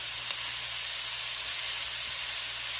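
Food being stir fried in a pan, a dense continuous sizzle and hiss that stays loud and steady throughout, with faint scraping of stirring and no talk.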